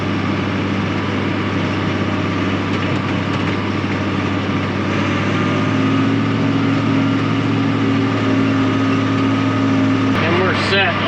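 A tractor running a PTO-driven mower at idle on a small wheat field, its loud, steady engine drone filling the whole stretch with a low hum and a brief rattle near the end.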